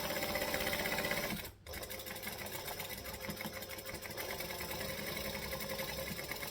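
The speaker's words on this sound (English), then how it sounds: "so stitch and back stitch" A sewing machine stitching a canvas tote bag, running forward in a steady close hum and then backstitching, with a brief dip and pause early on before the motor resumes its continuous whir.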